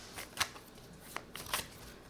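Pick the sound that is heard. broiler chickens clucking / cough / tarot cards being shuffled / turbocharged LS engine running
tarot cards being shuffled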